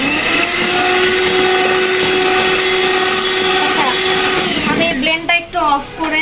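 An electric kitchen blender whirring loudly while blending cake batter ingredients, a steady high motor whine that shifts pitch near the end as it slows, close by and constant.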